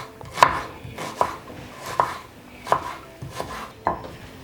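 A knife chops onions on a board in six separate, fairly evenly spaced cuts, each a sharp knock against the wood, close and clear with quiet between strokes.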